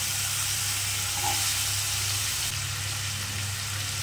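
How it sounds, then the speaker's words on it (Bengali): Chopped potato and papaya frying together in a pan for a chana dal dish, a steady loud sizzle and hiss that runs without a break, with no talk over it. "আলু পেঁপে দুটোই শক্ত হয়, মানে একসঙ্গেই আমি ভাজতে দিয়ে দেবো"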